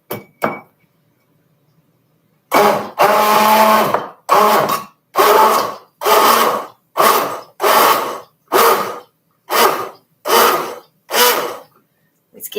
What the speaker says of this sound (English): Do the blender and keep the cord out of the way.